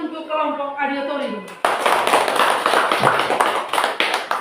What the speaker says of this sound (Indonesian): Oke, tepuk tangan untuk kelompok auditori.